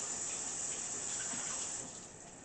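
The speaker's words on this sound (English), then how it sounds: "let me just wash my hands." Tap water runs steadily into a kitchen sink as hands are washed, a close, even hiss of running water that fades slightly toward the end.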